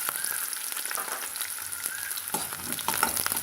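Small onions sauté in hot oil with mustard seeds for mushroom pepper chukka, giving a dense, close, bright sizzle with light spatters and stirring scrapes throughout.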